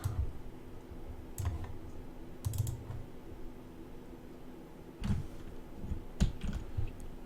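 Computer mouse and keys clicking during a computer game, faint sparse clicks and small clusters of taps spread over a quiet background.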